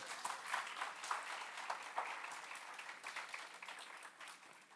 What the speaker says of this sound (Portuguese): Para aplaudir Jesus.